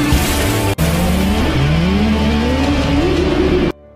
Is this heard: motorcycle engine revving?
yes